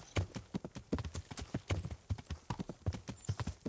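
A horse clip-clops away at a quick gait, with rapid, fairly close hoofbeats falling in an uneven rhythm and a brief whinny.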